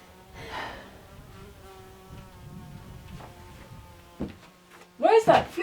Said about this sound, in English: Where's that flipping bee?